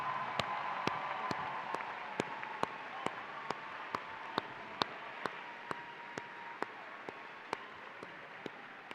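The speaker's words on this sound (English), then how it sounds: "let's give them a round of applause as well" Audience applauding CTE teachers at the Aiken County Career & Technology Center 2024 ceremony, a faint diffuse spread of clapping with a few sharper individual claps standing out at a steady pace throughout.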